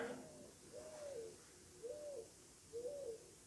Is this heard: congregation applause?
no